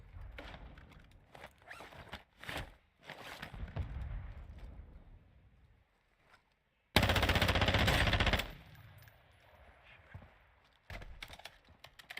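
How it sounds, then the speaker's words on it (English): Gunfire from bots shooting in a DMZ video game match, with bursts of rapid shots, a dense loud volley in the middle, and scattered quieter cracks around it. "The bots are in this mood where they just shoot me from every angle."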